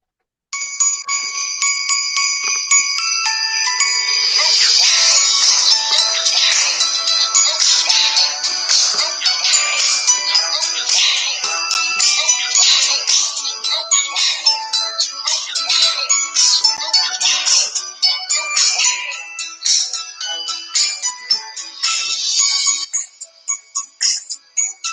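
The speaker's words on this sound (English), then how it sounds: "that is not copyrighted Christmas music, Mr. Catfish Headhunters," Christmas music plays from a phone speaker, a steady run of bright, bell-like chiming tones carrying on for nearly the whole stretch with no talking over it.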